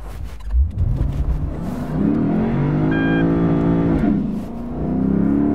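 A Lexus IS F V8 revs hard and climbs steadily toward the rev limiter, a loud, sustained engine note that rises and holds close by before settling back.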